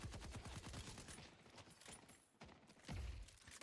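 Rapid gunfire from the video game Deadlock rattles in dense bursts, a quick fusillade that eases briefly and then picks up again, fairly quiet in the mix.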